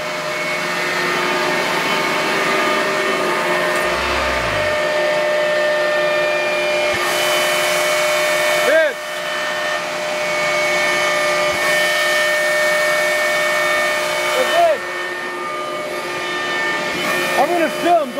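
Media blasting equipment runs with a loud, continuous mechanical roar and steady hum, holding level throughout with a few brief pressure surges and clanks, and voices talking over it.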